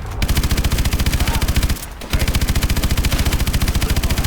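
Sustained rapid machine-gun fire from the game Call of Duty: Advanced Warfare, a dense even stream of loud close shots that pauses briefly once before resuming.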